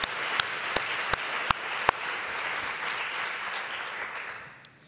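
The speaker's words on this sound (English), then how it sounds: "extra applause for this work" An audience at a policy conference applauds, a few sharp, loud claps at the start followed by a softer, steady wash of clapping that tapers off.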